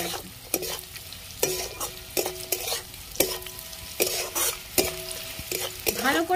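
Winter vegetables stir-fried in a pan for a spicy semolina breakfast dish: repeated scraping strokes of a spoon against the pan over a steady close sizzle, with no talking.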